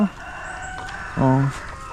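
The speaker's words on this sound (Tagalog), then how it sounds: "ayun yung mga manok natin" Darag chickens on a farm give a short, loud, close cluck-like crow, with softer fowl noises and faint outdoor ambience around it.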